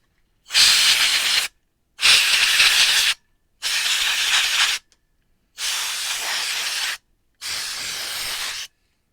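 A can of compressed air blown in five loud, separate bursts of hissing spray, each lasting about a second, while a computer is cleaned out close up with no talking.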